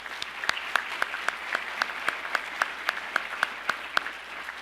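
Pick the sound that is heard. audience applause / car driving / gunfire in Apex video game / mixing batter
audience applause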